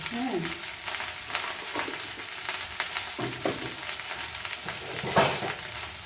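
Mashed leaves with salt and turmeric are stirred in a pan, giving soft scraping and intermittent clatters of a spoon against metal, with a light sizzle underneath and no talking.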